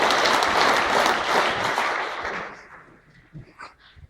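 Applause for the coaches at a school basketball banquet, a burst of loud clapping from a crowd that fades out over a few seconds, with scattered claps at the end.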